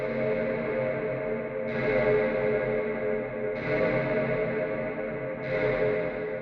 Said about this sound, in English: set a really long decay time to give us a huge cavernous reverb tail.